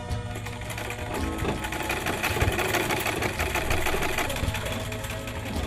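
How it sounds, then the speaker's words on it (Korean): A communal sewing machine in an Amazon tribal village hall runs steadily at close range, its needle hammering in a rapid, even mechanical rhythm with a low motor hum throughout. "바로 재봉틀인데요"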